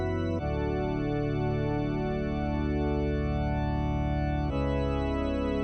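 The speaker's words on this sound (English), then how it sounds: "The first thing I put down were these organ chords." Sustained synth organ chords from the Joey Slow preset in the Purity plugin, for a song remake, swirling with a chorus-like wobble and changing chord once near the start and again near the end.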